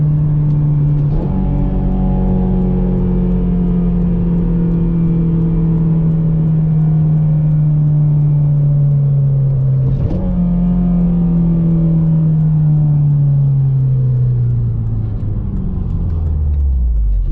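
An 8th-generation Honda Civic Si with solid engine mounts revs hard through the gears, its loud engine drone rising in pitch, dropping sharply at two shifts, then climbing again before tapering off.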